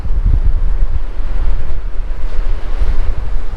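Strong wind buffets the microphone with loud, low rumbling gusts on a windy beach, while ocean surf washes continuously underneath; no voices.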